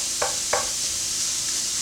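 Spiced lamb mince frying in a pan while being broken up and stirred, a soft continuous sizzle with two sharp scraping strokes of the utensil early on, no voices.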